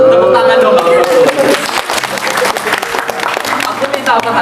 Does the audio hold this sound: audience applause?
yes